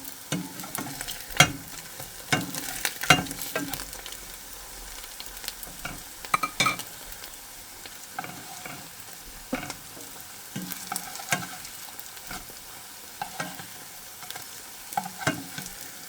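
A Korean mushroom pancake fries in a pan, giving a continuous soft sizzle broken by scattered clinks and scrapes as it is turned, with no talk.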